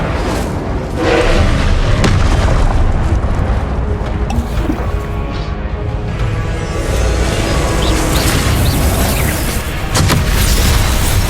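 Confringo explosive spell blasts in Hogwarts Legacy, loud booming bursts over dense game combat noise, with heavy low rumble and several sharp impacts spread across the stretch.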